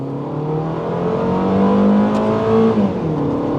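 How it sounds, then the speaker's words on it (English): A 2000 first-generation Honda CR-V engine revs up steadily and loud, its rising whine holding near and continuous with no talk over it. "The engine sounds alright."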